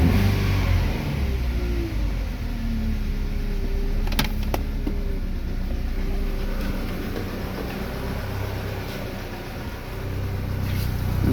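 A Chevrolet Lacetti Cruze 1.8 engine with a rough, shaky idle and weak pull, revving steadily in a sustained drone with sharp clicks and taps over it and no talking.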